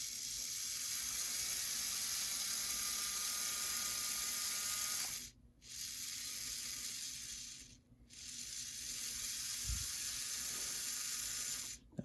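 A small electric motor in a Bachmann E60CP model locomotive whirs continuously at low volume, with two brief dropouts where it cuts off and restarts, alone without talk.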